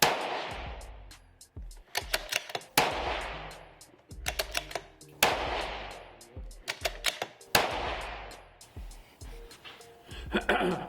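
Rimfire rifle shots from a Savage B17 MDT in .17 HMR at an outdoor range, several sharp cracks in irregular bursts, some spaced and some in quick pairs, each with a short echoing tail, loud and close.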